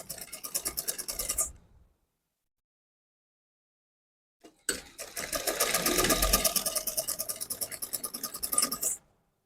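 Sewing machine running a straight seam on fabric, a close, steady rapid whir in two bursts separated by a few seconds of silence, the second burst longer and gradually slowing.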